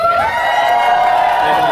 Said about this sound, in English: Let's get a round of applause for our kittens.